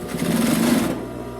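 Brother DB2-B735 industrial sewing machine running fast, a loud, even high-speed whir lasting about a second before cutting off into a quiet hum.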